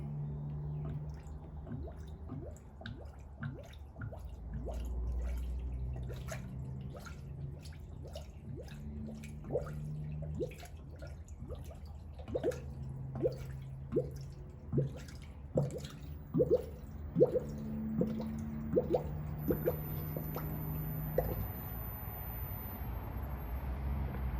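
Coolant is slowly poured into the radiator of a 1954 Kaiser Darrin during engine installation, producing a run of soft irregular gurgles and drips over a low steady hum, close by and fairly quiet.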